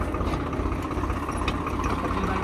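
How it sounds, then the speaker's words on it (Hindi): A tractor engine runs with a steady mid-low rumble while reversing, close and continuous over a brief stretch without speech. "बस ले अब ट्रैक्टर पीछे"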